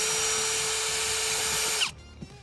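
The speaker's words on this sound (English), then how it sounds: "First, you need to remove this bolt on the driver's side." Power drill spinning out a 7mm bolt from the driver's side of a 2019-2024 GMC Sierra or Chevy Silverado dash, a loud steady whine close by that stops abruptly near the end.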